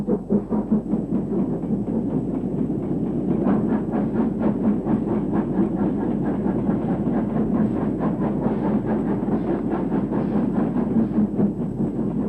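A 4F steam freight locomotive banked by a 3F engine passes on archive railway track, a loud, sustained rumble with steady rhythmic chuffing and clanking wagons throughout.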